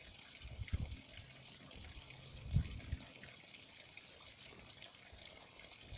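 Holy water pours and trickles during a baptism in a church, a soft, low splashing that swells in two brief gushes and then dies to a faint dribble under a steady airy room hiss.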